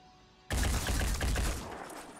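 Gunfire in the video game Phoenix Point erupts suddenly after a quiet moment and keeps going as a loud, rapid automatic burst of shots that slowly fades.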